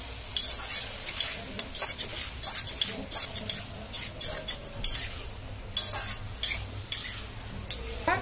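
Cauliflower florets and prawns sauté in a hot pan, a continuous sizzle broken by repeated scraping strokes and clinks of a spoon against metal, close and fairly loud.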